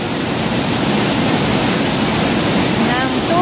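Water flows in a steady, loud, broadband rush that stays even and unbroken for the whole short stretch, with nothing else standing out.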